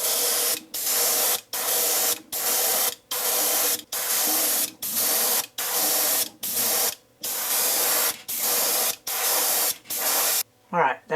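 Opaque white paint sprayed onto a wooden snake lure comes in about a dozen short, evenly spaced hissing bursts separated by brief pauses, close and clear, ending with a few quick sputters.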